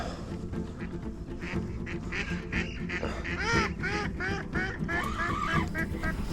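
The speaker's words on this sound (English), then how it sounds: "Your duck sound like laughing" Ducks quacking and honking at a fishing lake during autumn carp fishing: a busy run of repeated nasal quacks that grows louder toward the middle and continues over steady outdoor background noise.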